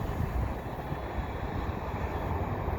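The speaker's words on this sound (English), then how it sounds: "And that's the end of the train." A CN westbound mixed freight train passes, a continuous loud rumble of rolling rail cars, steady and close throughout.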